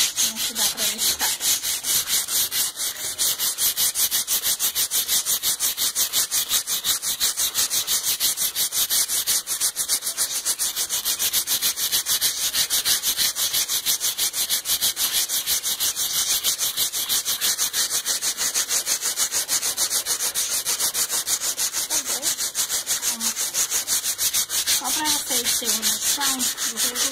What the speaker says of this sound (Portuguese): essa aqui é a lixa de madeira mesmo, ela resolve, ó.